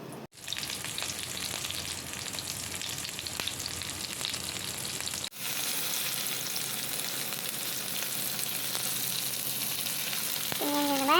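Eggplant slices coated in beaten egg fry in hot oil, a steady loud sizzle with crackling throughout, briefly interrupted near the start and again around five seconds, then continuing with no talk.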